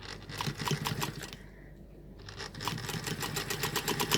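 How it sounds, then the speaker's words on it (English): A sewing machine stitches fabric in a fast, close rhythmic whir, pauses briefly for a reverse stitch, then resumes stitching forward, with no talk. "I've got the fabric into the machine, and I just need to do a couple of stitches, do a bit of a reverse, and then back again"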